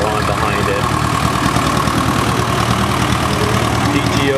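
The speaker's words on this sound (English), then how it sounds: "Here comes a WD9 standard with a terrace plow on behind it." An Allis-Chalmers-style WD9 standard tractor pulling a terrace plow chugs along with a steady, rumbling engine note at moderate distance, mixed with crowd and outdoor noise; a voice talks over it.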